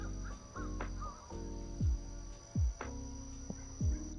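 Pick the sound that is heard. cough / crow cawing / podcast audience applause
crow cawing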